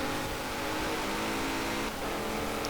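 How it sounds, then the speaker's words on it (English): A steady, loud twin-turbo V8 engine drone in Forza Horizon 4, a constant mid-range roar and no speech, the car running hard at high speed. "Engine does sound good though."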